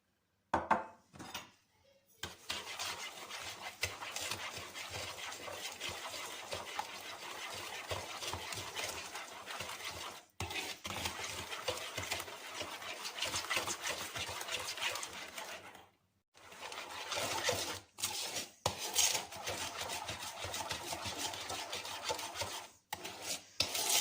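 Batter with added oil, sugar and vanilla being stirred in a bowl for pichenik, a continuous close rasping scrape of the spoon broken by a few short pauses, no talking.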